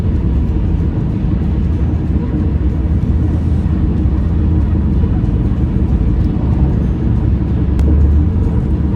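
A car cruising on a freeway in holiday traffic, with a loud, steady rumble of engine and tire roar heard from inside, continuous throughout.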